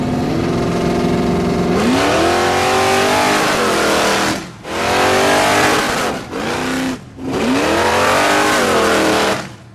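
Flame Fox drag car launching on an airport runway with tire spin. Loud, close engine roars climb in pitch over three successive revving bursts, separated by brief dips in between.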